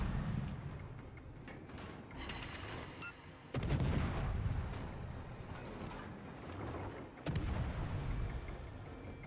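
Naval game battle with an enemy warship firing its guns: heavy booming salvos crash out at intervals, two big blasts standing out over a continuous rumbling din of gunfire.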